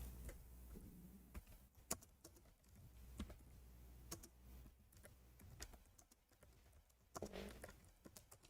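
Someone types on a computer keyboard, with sparse, irregular keystrokes spaced out over several seconds in a quiet room and a sharper, louder click at the very end. No one speaks.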